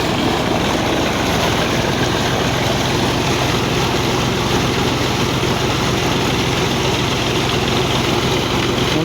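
A Massey Ferguson 135 tractor runs steadily with its PTO driving a water pump, a loud close continuous diesel drone mixed with rushing water noise, no break in the sound.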